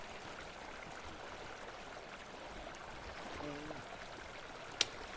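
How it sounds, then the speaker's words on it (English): Steady broadband rush of a waterfall in a video game, a constant hiss-like flow with a faint tonal sweep and a single sharp click near the end. "Look at that waterfall."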